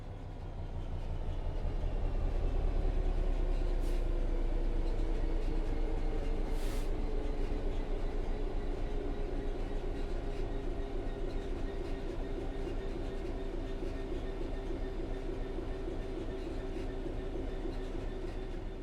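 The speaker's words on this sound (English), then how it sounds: "The train will then coast on level ground, and the train will only slow down very gradually." A video game train rolls steadily along level rails with a continuous low rumble and faint metallic clatter, slowly fading in pitch as it coasts.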